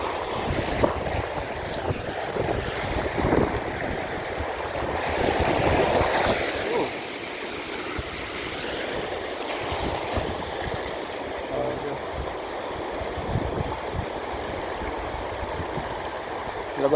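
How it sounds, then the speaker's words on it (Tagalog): Strong sea waves roll and crash onto a rocky shore near an old, damaged house, with steady wind rumble and surf wash continuing throughout. "Ang lakas ng alon."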